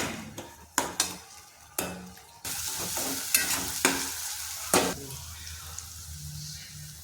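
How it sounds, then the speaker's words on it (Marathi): Onion puree hits a hot pan and sautés for restaurant-style paneer butter masala, a steady sizzle broken by several sharp clanks of a spoon stirring against the pan. "मी मिक्सरमध्ये कांद्याची प्युरी बनवली होती ती टाकून घेत आहे"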